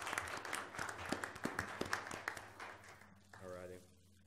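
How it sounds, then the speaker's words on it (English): Scattered clapping at a county board of commissioners meeting, a handful of sharp claps from a modest crowd tapering off before a voice begins speaking. "So a round of applause"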